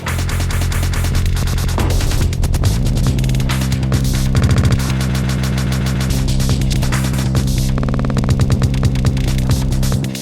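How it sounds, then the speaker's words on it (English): A Novation Circuit Rhythm plays a dense groove while a beat repeat effect stutters, slicing the sound into rapid repeating fragments. It is loud and continuous, with no voices. "We've got like a beat repeat."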